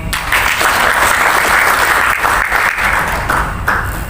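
Loud, sustained applause from an audience at the installation ceremony of the Pemuda Katolik central board, many hands clapping densely and steadily throughout.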